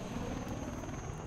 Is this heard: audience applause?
no